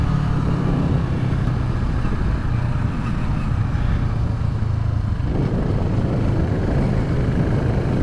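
A 2015 CFMOTO 650NK motorcycle out on the road, its engine droning loud and continuous with rushing wind noise, the pitch dipping briefly partway through and then carrying on steadily.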